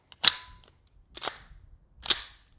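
A gas-powered airsoft M4 rifle fires three sharp, crisp shots, spaced about a second apart, close and loud against a quiet room.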